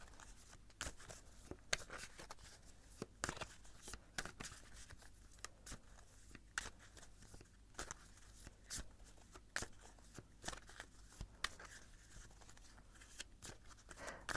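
A tarot deck is shuffled by hand, with soft repeated riffles and card slaps at close range. The sound is quiet and steady, with no talking.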